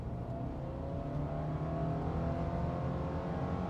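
A 2021 Subaru Crosstrek with the 2.5-liter engine pulling away from a stoplight at full throttle, a steady, droning engine roar heard from inside the cabin that stays even and loud, with no talking.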